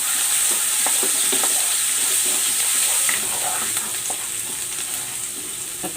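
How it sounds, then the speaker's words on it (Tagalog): Garlic being sautéed in a pan for Filipino pork igado, a loud close hiss of frying with a few faint stirring clinks that eases slightly toward the end, no talking. "Igigisa ko na tong bawang."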